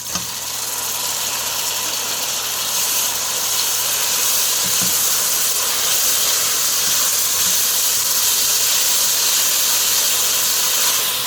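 Tomatoes hitting a hot pan while tilapia in sauce cooks, giving a steady, loud hissing sizzle that holds evenly throughout with a faint low hum underneath and no voices.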